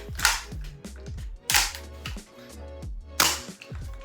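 A TM Type 89 airsoft gas rifle fired with an empty magazine: three loud, sharp blowback cracks at uneven intervals, each with a quick metallic clack and short ring, and quieter mechanical rattles between shots.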